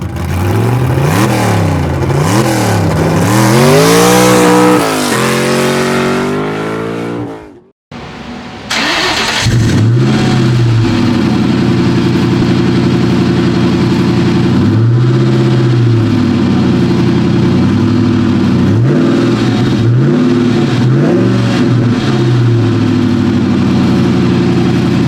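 Ford Mustang Mach 1 with an SLP Loudmouth exhaust, loud and close: repeated throttle blips that rise and fall, a brief cut, then a steady deep idle with several more revs.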